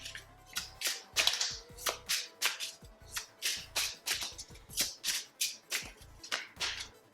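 Tarot cards are shuffled by hand in a steady rhythm of about two crisp riffling bursts per second, close and clear against a quiet room.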